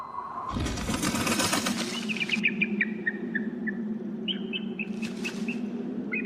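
Birds in an abandoned office building burst into noisy wing-flapping twice, with short bright chirps and calls between the flurries over a low, steady hum.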